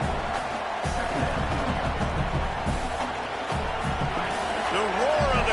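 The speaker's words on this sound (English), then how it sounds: "The roar of the crowd trying to fuel this defense to keep them pinned in their own end" A stadium crowd roars steadily through a high school football game, a dense continuous wash of cheering while an announcer talks over it.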